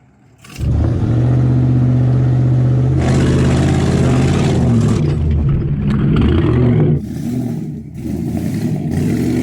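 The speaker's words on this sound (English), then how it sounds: "What we're going to do is drive along this little course here, then go round a hairpin, and the car with the fastest time wins." A Hennessey Mammoth truck revs hard and accelerates on an off-road course with a hairpin, its deep engine roaring loud and close, shifting pitch as it pulls away, with clattering at the end.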